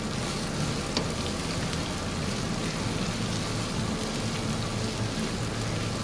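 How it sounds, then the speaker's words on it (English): Onions sizzle steadily in a hot pan, a soft continuous crackle with an occasional stir and no talking. "So I stir that around. Let them onions cook for a little bit."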